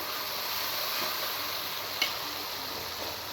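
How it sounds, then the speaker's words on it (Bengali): Pointed gourd sautés with cumin paste in a pan for a light Bengali rohu fish curry, a steady hiss of frying with one sharp utensil tap partway through and no voices. "জিরা বাটাটা দিয়ে দিয়ে আমি পটলটা কষাই নেব"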